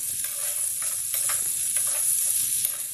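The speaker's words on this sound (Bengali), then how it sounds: "এই পর্যায়ে ভেজে রাখা সমস্ত সবজিগুলো দিয়ে দিচ্ছি।" Fried mixed vegetables tipped into a pan of hot, oil-released masala, a steady loud sizzle with a few scraping stirs across the pan, no speech.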